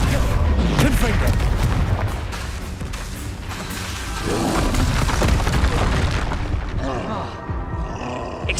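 Confringo fire spell blasts in the video game Hogwarts Legacy, loud booming bursts with roaring, crackling rumble amid continuous dense combat noise, swelling midway and thinning near the end.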